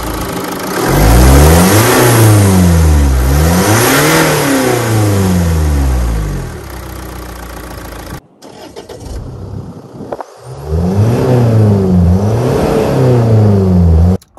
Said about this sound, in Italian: proviamo a metterla in moto e vediamo come va l'accensione